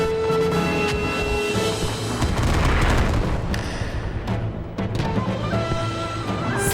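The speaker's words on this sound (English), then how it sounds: "Airstrike gonna explode." An airstrike in the Squad video game sets off a heavy booming explosion, with a loud rumbling blast near the middle and scattered sharp cracks and pops of distant gunfire around it.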